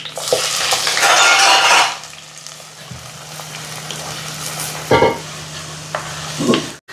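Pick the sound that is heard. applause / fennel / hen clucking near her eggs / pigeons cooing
fennel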